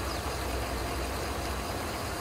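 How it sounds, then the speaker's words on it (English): A truck engine in the Farming Simulator 22 video game runs at a steady idle, a low, even rumble at modest volume, alone without talk. "Start the engine, turn run."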